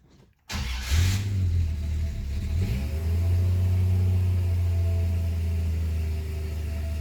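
A Slant Six car engine cranks and catches after a short silence, then settles into a steady low idle that carries on loud and close.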